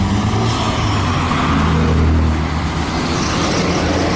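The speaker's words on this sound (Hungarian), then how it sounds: "Ez meg egy Mitsubishi kamion." Heavy Mitsubishi trucks rolling past on a road, a loud, continuous low rumble of engines and tyres that swells and holds steady with no voices.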